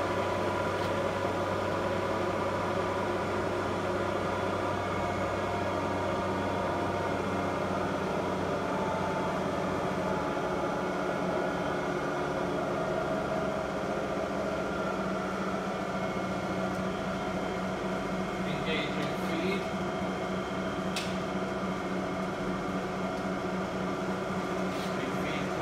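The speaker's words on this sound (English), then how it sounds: "Gonna bring on, we're in high gear right now, bringing the machine on." A Lagun FTV-1 vertical milling machine runs in high gear, a quiet steady hum with faint motor tones holding evenly throughout, and a few faint clicks near the end.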